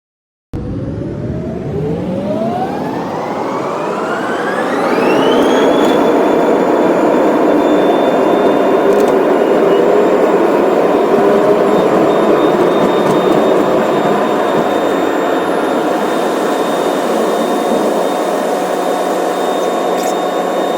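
A Singapore Airlines Boeing 787 takes off from Bangkok, with jet engines spooling up from a rising whine into a loud, steady roar of full takeoff thrust that holds alone for the rest of the run.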